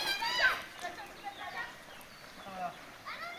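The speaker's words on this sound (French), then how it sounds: "j'entends les gosses qui jouent" Children's distant shouts and playful cries carry from a river where they play, over a soft rushing background of flowing water, rising and falling in short bursts.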